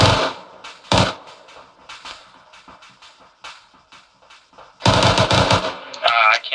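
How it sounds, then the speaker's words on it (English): Gunfire during a platoon training exercise in wooded terrain, sharp cracks and short bursts at irregular intervals, with a dense rapid volley near the end; some shots sound close and loud, others quieter in between. "I have gunfire out here to the southwest."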